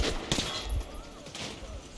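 Gunfire from the video game Metro 2033 Redux comes as a few quick, sharp shots in close succession, with rumbling low thumps between them.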